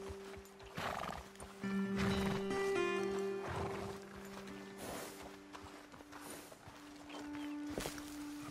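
In the video game Red Dead Redemption 2, horses stand after their riders dismount, hooves shifting and clopping on the ground, with a snort and whinny over a quiet outdoor bed and faint music tones.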